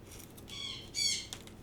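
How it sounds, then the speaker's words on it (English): Two short bursts of harsh, shrill sun conure squawking from a little distance, separated by a brief pause, with quiet room noise between. "She's my sun conure. She's out there just yelling at something."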